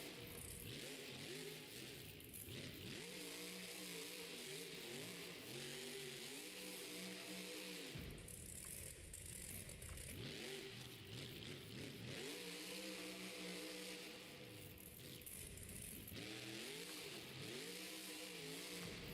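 A Monster Jam monster truck's engine revs repeatedly at a stadium show in Glendale, roaring surges that rise and fall in pitch in several bursts, heard at a distance and fairly faint, without talk.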